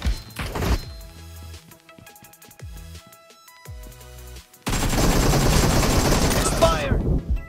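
Gunfire in BGMI mobile battle royale gameplay, with sharp separate shots and short bursts early on, then a long dense loud volley of rapid automatic fire near the end.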